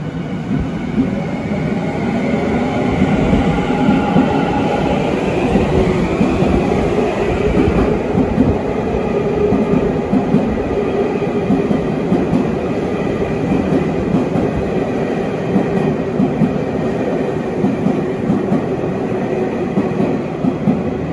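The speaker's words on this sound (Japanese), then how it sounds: "ずっとね赤の信号だったんですが、いよいよね出庫ということになります。" A subway train pulls out of its depot on a Japanese line, a loud, continuous rumble of wheels and motors with faint clickety-clack, heard close and steady throughout with no talk.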